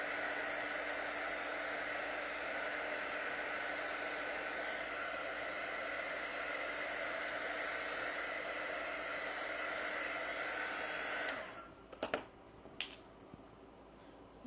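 A hair dryer or heat tool drying paste on a snowglobe shelf-sitter craft blows as a steady, close whoosh for about eleven seconds, then cuts off, followed by a few faint clicks and taps.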